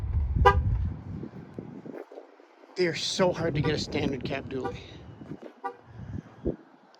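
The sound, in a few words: truck honking its horn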